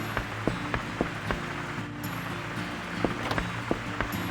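Steady rain falling in the farming game Rune Factory: Oceans, a constant soft hiss with light periodic ticks of drops, moderately quiet and continuous with no talk.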